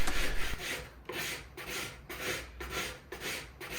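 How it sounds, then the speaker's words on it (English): A hand scraper rasps old glue off a wooden panel during a CV40 campervan fit-out, softened with white spirit. Steady back-and-forth strokes repeat about every half second, close and fairly quiet, with no one speaking. "He's using a scraper to scrape off all the old glue off the wood."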